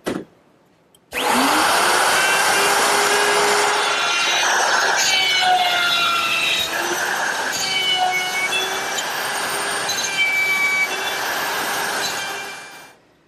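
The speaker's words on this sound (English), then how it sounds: "I'm ready to route the pins." A router cuts dovetail pins in a wooden workpiece for a workshop hutch: loud, continuous high-pitched whine from close by, starting abruptly after a second and running steadily until it winds down at the end.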